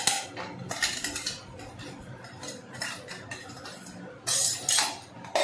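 Stirring a sweet-and-sour carrot, cauliflower and turnip pickle with ground spices in a pot, heard as intermittent scraping and clinking of a spoon against the vessel, close and moderately quiet, with bursts of louder scraping.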